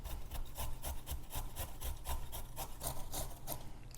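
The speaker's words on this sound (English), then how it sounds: "I'm gonna grate it in the bowl" Fresh turmeric root is grated into a bowl, a close, rhythmic rasping with quick regular back-and-forth strokes, roughly two per second, steady and alone with no talk.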